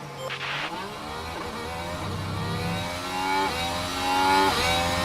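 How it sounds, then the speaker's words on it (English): A Formula 1 race car engine in F1 Manager 24 at Las Vegas during qualifying, a steady mid-pitched drone whose note rises and falls through gear changes, moderately close and with no talk. "you always get a couple of cars that give you engine noise in qualifying around here"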